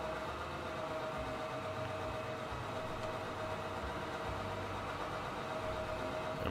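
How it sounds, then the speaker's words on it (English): A diesel train in the Transport Fever video game, set on a mountain map, runs with a steady low engine drone and a faint continuous rumble. "So there's our first diesel train."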